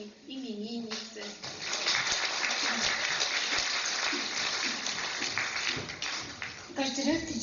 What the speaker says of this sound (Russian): это аплодисменты для нашей сегодняшней именинницы